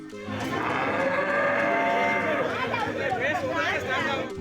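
Cattle tied up outside a police station moo loudly and close by, a long drawn-out call under a background of crowd chatter and people talking.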